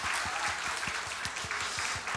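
Steady applause from a church congregation during a Sunday worship service, a dense wash of many hands clapping at close range without a break.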